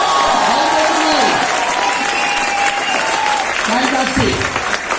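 An audience at a Mi Lifestyle network-marketing motivational event claps loudly and continuously. The clapping sits under a sustained background hum and faint voices and carries on steadily throughout.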